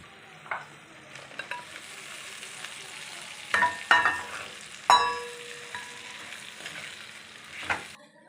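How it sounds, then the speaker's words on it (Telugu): Okra frying and being stirred in hot oil with coriander powder and garam masala, making a steady soft sizzle broken by several sharp spatula scrapes and clinks against the pan, close and alone with no talk. "ఒక్క నిమిషం ఇదంతా ఆయిల్లో ఫ్రై అయిన తర్వాత బెండకాయలు వేసుకొని కలుపుకుందాం."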